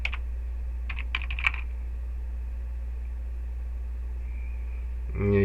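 Fingers type on a computer keyboard in two short bursts of close, crisp key clicks, then stop, leaving a steady low hum. A brief thump sounds near the end.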